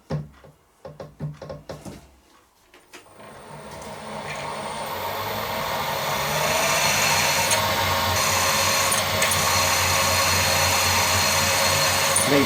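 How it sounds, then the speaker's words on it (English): A power drill starts after a few clicks and knocks, then settles into a steady, loud whine as it bores a pilot hole through soft cast iron with a 4.9mm bit, continuing without talk. "Nice soft cast iron, it's drilling really well."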